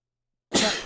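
A single sudden sneeze bursts out after a moment of silence, close and loud, with a harsh breathy rasp.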